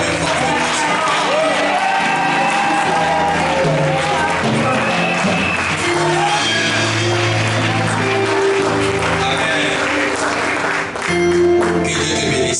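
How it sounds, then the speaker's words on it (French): A church congregation at a Sunday service breaks into loud, sustained applause and cheering, with whoops and voices mixed into the crowd noise for the whole stretch. "Est-ce que quelqu'un peut acclamer fortement son Père?"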